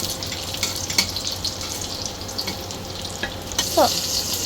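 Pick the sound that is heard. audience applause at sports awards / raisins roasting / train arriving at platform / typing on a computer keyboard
raisins roasting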